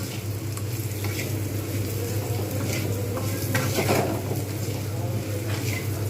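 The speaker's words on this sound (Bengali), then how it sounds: "আমি এবারে এর মধ্যে পোস্ত দিয়ে দেবো এটা কিন্তু আমি এবারে ভালো করে ভাজবো" Sweet potato frying with poppy seeds in a pan, a steady close sizzle with stirring scrapes and occasional clinks of a utensil against the pan, continuous throughout.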